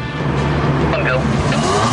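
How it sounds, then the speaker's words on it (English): A Ferrari 360 Challenge engine roars steadily at close range during a launch-control getaway while a voice talks over it. "Hit launch control for a fast getaway and wait for the call."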